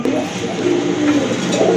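A male pigeon coos loudly and close, a continuous run of low warbling calls rolling on through the whole moment with no talk.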